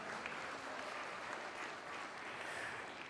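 A conference audience in New York applauding, a dense, even wash of clapping from many hands, steady throughout and heard from a distance, with no voices over it.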